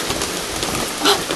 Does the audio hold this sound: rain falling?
yes